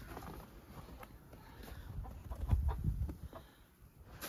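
Hens clucking inside a henhouse in winter at -9°C, a soft low murmur of fowl with a few scattered clucks rising midway, fairly near and without talk.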